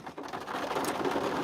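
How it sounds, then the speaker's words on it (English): Heavy rain pours down outdoors at a park during a big storm, a dense steady hiss of falling drops heard alone, with no voices. "it's raining like crazy."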